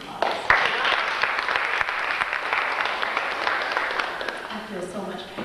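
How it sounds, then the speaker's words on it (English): An evening poetry reading's audience applauds the writers with a dense, steady wash of clapping that holds at an even level and thins slightly near the end, with a few voices mixed in. "they deserve another round of applause"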